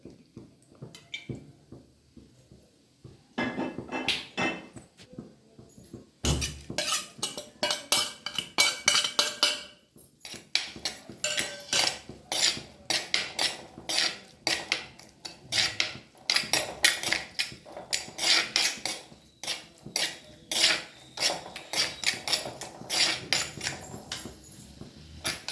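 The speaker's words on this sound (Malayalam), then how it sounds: "അപ്പോൾ ഇത് അടുപ്പത്ത് ചട്ടി വെച്ചിട്ട് കുറച്ച് വെളിച്ചെണ്ണ ഒഴിച്ചിട്ട് ഉള്ളിയും വെളുത്തുള്ളിയും ജീരകം കൂടി ചതച്ചതാട്ടോ വഴറ്റാൻ പോണത്" Onion, garlic and cumin, crushed together, frying in coconut oil in a pan on the stove, heard as a stretch of metallic clinks, scraping and stirring clatter of a utensil against the pan, continuous and close, with no voices.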